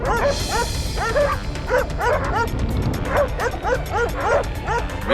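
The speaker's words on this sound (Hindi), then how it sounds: "भौंकना बंद।" Several dogs barking and yipping together in an indoor courtroom scene, a rapid, continuous chorus of overlapping barks close by and loud, with some whimpering mixed in.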